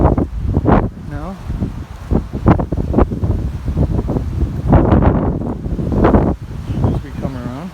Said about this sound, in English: Sorry about the wind, once again,